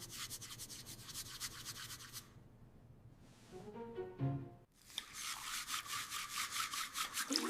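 Children's toothbrush scrubbing teeth, including the inner surfaces: steady rhythmic bristle rubbing for a couple of seconds, a short break of softer sounds, then the brisk scrubbing resumes, close and fairly quiet with no talk.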